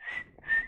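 A voice imitates whistling with two steady, clear whistled tones separated by a short pause, close and alone.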